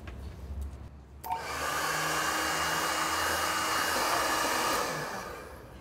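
A hair dryer blows steadily on wet chalk-style paint, switching on after a second of handling noise and then roaring evenly for several seconds before easing off slightly.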